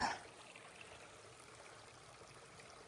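Fast-flowing stream water at a trail stop, a faint, steady rushing and trickling that runs throughout, heard from nearby with no talking.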